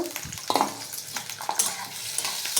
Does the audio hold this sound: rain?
no